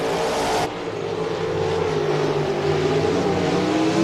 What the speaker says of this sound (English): Someone's engine sounds terrible.